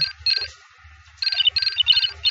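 A phone ringing in the Phoenix Wright courtroom video game: a bright electronic ring in repeated bursts with short pauses, clear and alone with no talk.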